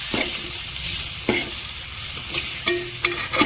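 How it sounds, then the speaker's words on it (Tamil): Crab pieces are stirred with masala powder in a hot pan, giving a steady oily sizzle with a few sharp spoon scrapes against the pan, close and fairly loud with no talking. "இப்போ வந்து நல்லா மசாலா பொடி இந்த மசாலா பொடி வந்து எல்லாத்துலேயும் வர்ற மாதிரி நல்லா கிளறி விட்டுக்குருவோம்"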